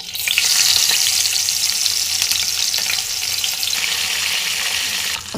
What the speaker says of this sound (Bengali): এবার মাছটাকে ভেজে নেব।